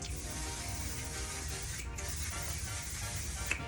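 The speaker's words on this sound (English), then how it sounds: "Yes, I sprayed too close." A makeup setting spray hisses in a continuous close, broad spray lasting a few seconds, with a brief pause partway through.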